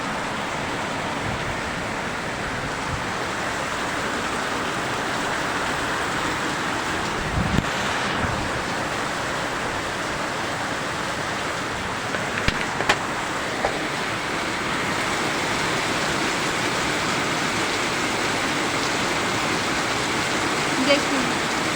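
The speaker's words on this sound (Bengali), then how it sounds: "দেখুন কি বৃষ্টি হচ্ছে।" Heavy rain pours steadily in Ayodhya, with trees bent low, a dense constant hiss carried by gusty wind noise on the microphone, and a few brief knocks partway through.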